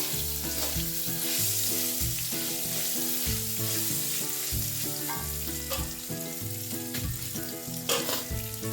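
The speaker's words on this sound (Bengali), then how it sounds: "চুষি আর কাজুগুলোকে একটু ভেজে নিচ্ছি।" Chushi and cashews fry in ghee for taal kheer, giving a continuous close sizzle with stirring, heard beneath steady background music.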